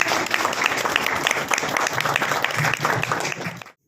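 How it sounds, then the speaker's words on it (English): Audience applause at a Miss Universe Meghalaya event, a loud, full burst of crowd clapping with a low murmur of voices beneath, ending abruptly. "Come on, a huge round of applause."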